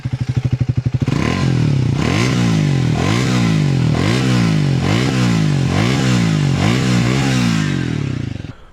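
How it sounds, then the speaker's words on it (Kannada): Triumph Speed 400 single-cylinder motorcycle idling with a pulsing thump, then revved repeatedly in rhythmic surges, a loud, close exhaust note with rising and falling pitch. "ಸೊ ಗಾಡಿದೊಂದ್ಸಲ ಎಕ್ಸಾಸ್ಟ್ ನೋಟ್ ಕೇಳೋಣ."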